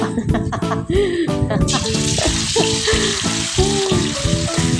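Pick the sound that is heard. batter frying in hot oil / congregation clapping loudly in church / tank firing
batter frying in hot oil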